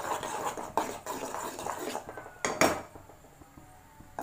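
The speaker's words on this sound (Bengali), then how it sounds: "এটাকে ভালোভাবে এরকম করে নাড়াতেই হবে।" A metal spoon stirs butter melting into ghee in a pot, scraping and clinking against the sides in a few irregular sharp knocks between softer swirling sounds, with no voices.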